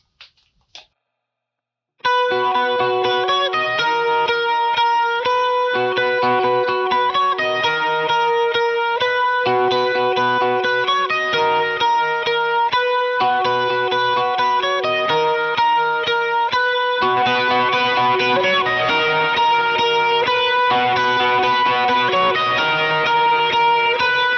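An electric lead guitar plays a melodic riff through overdrive with chorus and reverb effects, loud and sustained, the notes ringing into each other after a brief tap and pause at the start, with no talking.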